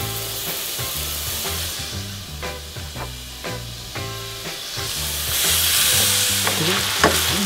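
Bacon frying in a pan for carbonara, a loud close crackling sizzle with repeated rhythmic stirring knocks, the hiss swelling louder near the end, no one speaking.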